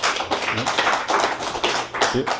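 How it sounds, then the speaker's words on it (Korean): An audience at a philosophy lecture gives a lecturer dense, warm applause: continuous overlapping clapping from a fairly full room, fairly close and sustained. "유재칠 소장님께 뜨거운 박수 부탁합니다"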